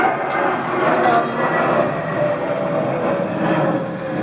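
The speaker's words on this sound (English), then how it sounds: "Sorry, there's a plane." An airplane passes overhead as a steady, broad, rumbling roar that holds throughout, moderately loud, with faint speech underneath.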